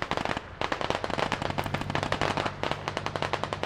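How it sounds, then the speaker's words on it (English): Close, intense mortar and gunfire in the Squad combat game, a rapid, crackling barrage of overlapping blasts and reports that keeps up steadily throughout, with no talk over it. "That's really close mortar fire."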